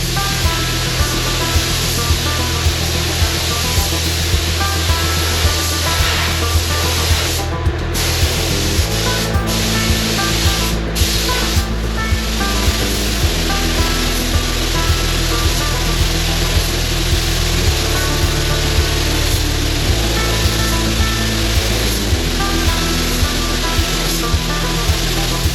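A paint spray gun hisses continuously and evenly while laying a second coat of paint on a Chevy C10 truck in a home garage. The loud, steady spray runs throughout with only brief gaps and no talk.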